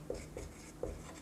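Chalk or marker taps and short strokes on a board during a classroom lesson, three faint quick touches over a second against low room hiss.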